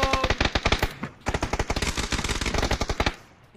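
In a PUBG match, rapid automatic gunfire rattles out in long, dense bursts with a short pause before the shooting resumes, loud and close before trailing off at the end.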